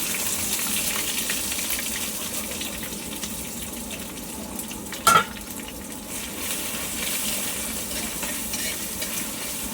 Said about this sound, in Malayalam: ചെറിയൊരു സവാളയും കൂടി അരിഞ്ഞിട്ട് കൊടുക്കാം